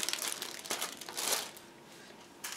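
A large plastic bag crinkles and crackles in bursts while 1/72 scale model kit sprues are pulled out of it, loud and close, with no talking.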